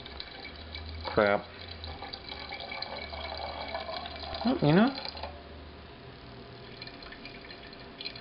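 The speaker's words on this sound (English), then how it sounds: "Looks like it's releasing some carbonation because of the bubbling" A home-brewed java stout bubbles and gurgles in a carboy as it releases carbonation. Two louder bursts of liquid sloshing stand out over a soft continuous fizz, with someone talking nearby.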